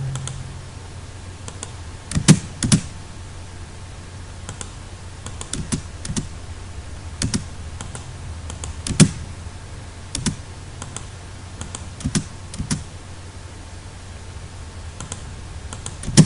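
Keys click and tap on a computer keyboard while someone enters AutoCAD Civil 3D shortcuts, with sparse individual presses and a few louder, sharper strikes spread across a quiet background.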